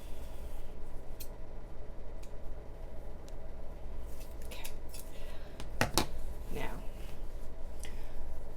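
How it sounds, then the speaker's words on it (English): Two quick snips of sewing scissors trimming leftover thread at the end of a stitch on a scrub top, crisp and close, over a steady low room hum with some light handling clicks. "always remember to snip off your extra at the end"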